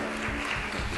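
A church congregation applauds during prayer in praise, a dense, steady wash of clapping filling the room for a brief moment.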